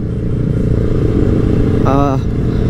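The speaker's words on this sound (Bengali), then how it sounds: "এটা তো মনে হয় রাহির বাইক গেল" A motorcycle engine drones past on a rainy-season road, loud and steady throughout, with a short burst of voice partway through.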